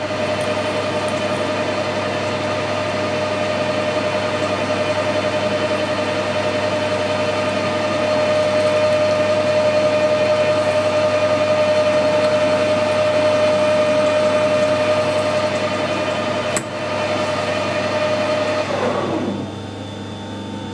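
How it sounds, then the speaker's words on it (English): A centre drill boring into a broken stud, a steady loud machine whine with a constant tone that runs unbroken for about twenty seconds, then winds down near the end. "Straight in with centre drill."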